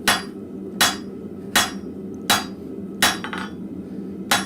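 A blacksmith setting down inch-thick stock for tong reins, striking it with a hammer in five sharp, ringing blows roughly every three-quarters of a second, loud and close over a low forge hum.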